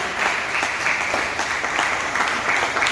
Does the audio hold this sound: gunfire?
no